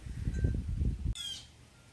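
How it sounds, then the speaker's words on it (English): A bird gives a sharp, brief high-pitched scream in an orchid garden, ringing out just after a stretch of low, close talking and then fading into quiet. "That bird is screaming."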